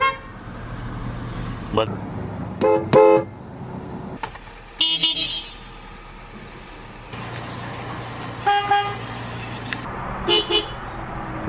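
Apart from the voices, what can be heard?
Saab car horn honking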